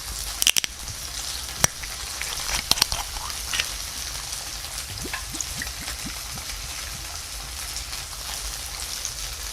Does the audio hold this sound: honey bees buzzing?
no